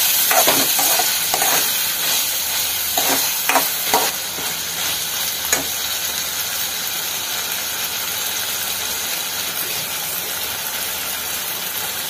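Dried red chillies fry in a pan for ivy gourd chutney, giving a loud, constant hissing sizzle with a few stirring scrapes early on and no talking.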